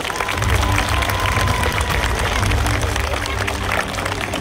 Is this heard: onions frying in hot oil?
no